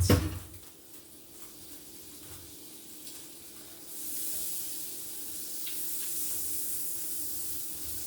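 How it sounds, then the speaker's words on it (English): Butter melting in a hot pan, a faint low hiss that swells into a steadier, brighter sizzle about halfway through and keeps going to the end. "And we're going to add the butter to the pan. Let that melt."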